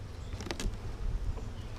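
Honeybees hum steadily inside an opened hive box during a nectar flow, a soft continuous drone close by with a couple of brief brighter buzzes as bees fly past.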